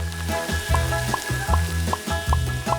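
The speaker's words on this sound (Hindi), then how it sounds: "अब तेल को थोड़ा गरम करें और कटा हुआ टॉर्टिया सुनहरा भूरा होने तक तलना है।" Cut tortilla pieces for nachos fry in hot oil, a steady close sizzle that swells in a regular pulsing rhythm roughly every 0.4 seconds, with no talking.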